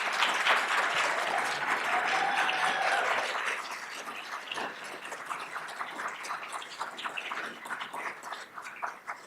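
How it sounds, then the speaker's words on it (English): An audience applauds Ms. Noelle Rich, named School 22 Bilingual Teacher of the Year at an educator recognition ceremony, a full, steady round of clapping that gradually thins and softens toward the end. "Let's give her a round of applause."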